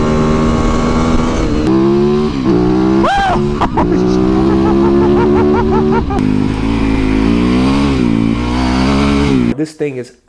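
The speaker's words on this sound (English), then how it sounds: "This 2019 Yamaha YZ450FX that I converted to Supermoto." A 2019 Yamaha YZ450FX dirt bike converted to supermoto revs hard and rides close by, with rising and falling engine pitch through repeated throttle blips and shifts, and a sharp cutoff at the end.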